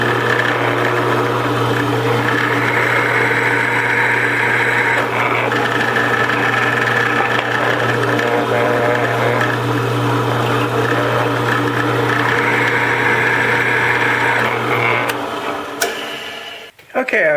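Power drill boring holes with a drill bit in parts for a woodworking vise, a loud, steady motor whine with varying load that runs for about fifteen seconds before winding down and stopping.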